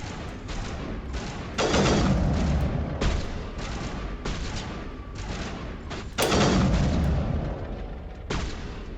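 Weapon fire in the video game Mass Effect, bursts of rapid shots separated by short pauses, with two louder, heavier barrages standing out among the quieter volleys.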